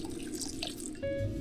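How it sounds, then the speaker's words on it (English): Water pours into a pot of curry soup, a steady splashing and trickling stream that rises in pitch as it fills, close up with no talk. "then I add in 3 to 4 cups of water"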